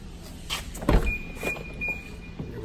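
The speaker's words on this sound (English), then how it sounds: "we will also be retracting the sunroof that you see here, so you can see that it opens and closes without problems" Sunroof of a 2013 BMW 750Li xDrive retracting, a thin steady electric motor whine running under a few soft knocks and shuffling cabin sounds, close and brief.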